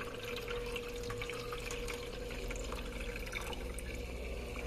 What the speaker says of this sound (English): I'm just going to add about 4 liters of filtered tap water